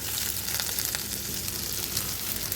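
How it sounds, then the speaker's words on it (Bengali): Fish roe from shing catfish sizzles steadily in a pan with browned chopped onion and garlic, a dense, even crackle of frying that runs close and unbroken throughout. "পেঁয়াজ রসুন কুচি বাদামি কালার করে ভাজি করে নেওয়ার পর মাছের ডিমগুলো এর মধ্যে দিয়ে দিলাম"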